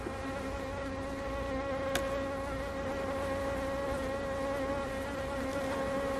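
Honeybees swarm out of an opened beehive frame in a dense, continuous buzz, loud and close. The agitated insects hum steadily throughout, with no voices.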